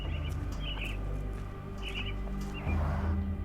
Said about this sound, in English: Minor birds, if I'm not mistaken.